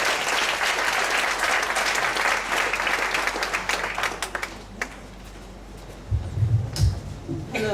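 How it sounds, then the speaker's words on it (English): Sustained audience applause at a PechaKucha Night women's special at BetelNut in Ubud, Bali, welcoming a speaker. Dense clapping fills the first five seconds, then thins to scattered claps before a voice begins speaking near the end. "So please help me to give a big applause to Astrid."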